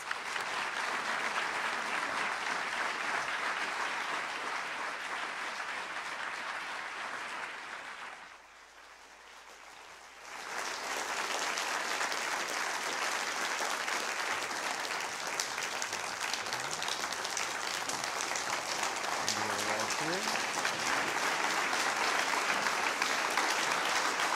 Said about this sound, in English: please let's give our speakers a hearty round of applause